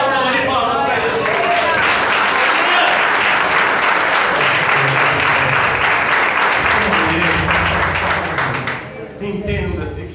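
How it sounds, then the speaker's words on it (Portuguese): Church congregation gives sustained loud applause during a Portuguese-language sermon, dense clapping from a crowd holding steady for several seconds before tapering near the end. "dê uma boa salva de palmas para Jesus"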